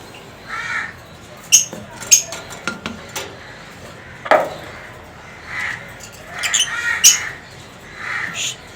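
Newly paired breeding pet birds in a cage give a few sharp, separate chirps and squawks over a faint background, with short clinks and a brief burst of bird calls near the end.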